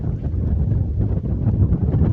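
Loud, steady wind buffets a camping tent and the microphone on a wild camp in the Derwent Valley, Peak District, as a constant low roar with no talk.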